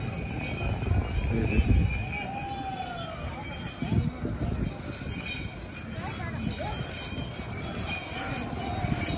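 A train rolls through the railway station beside Kamarkundu bridge, with metallic wheel squeals rising and falling over a steady rumble of rail noise that fills the whole stretch at moderate distance.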